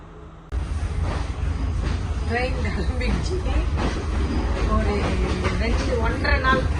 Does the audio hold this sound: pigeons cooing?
no